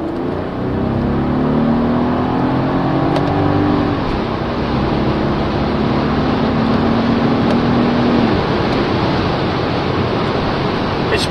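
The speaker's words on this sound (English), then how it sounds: "It's in sport mode. I have also manual, so let's shift it. Second gear, 3000 RPM." A Mercedes S65 AMG W221 in sport mode and manual, pulling hard in second gear from around 3000 RPM: a loud, steady engine roar rising in pitch, easing briefly at a shift, then climbing again under heavy road and wind noise inside the car.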